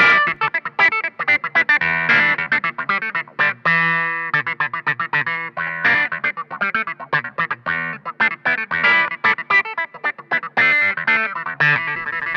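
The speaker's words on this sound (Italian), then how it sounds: "il wah chiaramente l'abbiamo usato" A Hohner Clavinet D6 played through a wah pedal, with a choppy, funky rhythmic line of bright distorted notes whose quacking filter sweeps rise and fall, close and loud with no voices.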